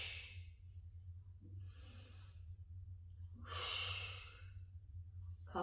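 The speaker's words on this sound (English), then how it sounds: "Inhale away, exhale." During a Pilates core exercise, a person breathes with airy, close exhales and inhales in a slow repeating pattern. The longest, fullest breath comes near the middle, and there is a faint steady hum underneath.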